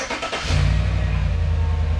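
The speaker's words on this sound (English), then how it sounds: "Cut your wheel to the right a little bit as you back up to get it away from that post over there." A Chevy Tahoe with a MotoFab leveling kit starts moving in reverse, its engine swelling into a steady, close, low idle hum after a brief quieter lead-in, with no talking.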